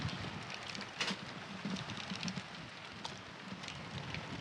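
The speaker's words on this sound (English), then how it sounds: "the rain is getting a wee bit heavier now" Rain falls on an outdoor ballpark during an Australian Baseball League game in Auckland, a faint, steady hiss of drops with a few light patters and no talking.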